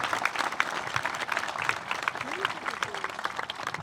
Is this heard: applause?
yes